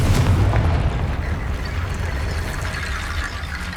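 A Confringo fire spell detonates in Hogwarts Legacy on PS5, a loud booming blast with heavy low rumble right at the start that stays sustained and roaring as it decays over the following seconds.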